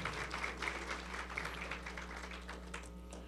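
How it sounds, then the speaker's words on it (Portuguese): Audience at a formal ceremony giving a round of applause, many hands clapping in a steady, moderately distant patter over a low hum. "Salva de palmas, por favor"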